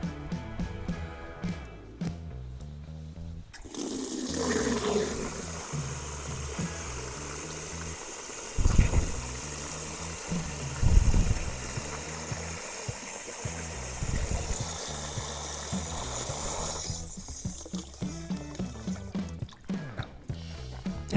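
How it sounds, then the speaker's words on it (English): Water runs from an outdoor tap into a bucket at a campsite, a steady hissing pour with some splashing and bumps after the tap opens. The flow stops near the end. "So I'll just walk over to the nearest tap, fill up the water bucket"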